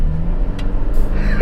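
Toyota Fortuner 2.8 GR diesel with a new-generation turbo, heard from inside the cabin as a steady low engine drone builds under acceleration, ending in a short, louder burst at the close.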